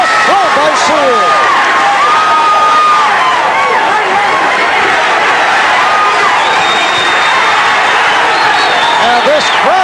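A large 1985 light heavyweight championship boxing crowd roars and cheers continuously during the fight, dense and loud throughout with scattered sharp shouts and whistles.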